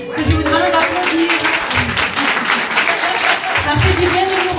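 Conference audience applauding a speaker as she is welcomed to the stage, steady broadband clapping throughout with voices speaking over it.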